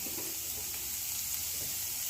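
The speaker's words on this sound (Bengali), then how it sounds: "এবার এর মধ্যে দিয়ে দেব কুচনো পেঁয়াজ" Chopped onion dropped into hot oil with fried potatoes, a continuous close sizzle with faint stirring clicks, steady and unbroken for the whole moment, no voices.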